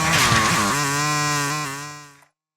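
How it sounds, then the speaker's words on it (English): A motorbike engine in the video game Call of Duty: Warzone, loud and close: a quick rising rev settles into a steady droning hum, then cuts off abruptly after about two seconds. "motorbikes that sound like this,"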